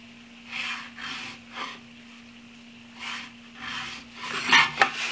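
A pencil rubs in short scratchy strokes across a wood board for a bunk bed ladder, several separate marks close up with pauses between, and a few small taps near the end.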